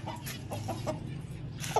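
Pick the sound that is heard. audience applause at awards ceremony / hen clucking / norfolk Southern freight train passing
hen clucking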